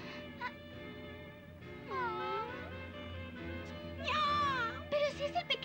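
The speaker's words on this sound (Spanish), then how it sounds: "Pero si es el pequeño gato del estanque." A small cat by a pond meows several times: a short cry, then a longer wavering mew, followed by a cluster of quick meows, close and fairly soft.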